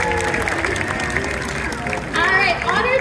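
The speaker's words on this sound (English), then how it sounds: "how about a round of applause for Opie and his trainer" Audience applause fills the stands at a SeaWorld San Diego sea lion and otter show, a steady wash of clapping throughout with a voice or music carrying over it, growing louder near the end.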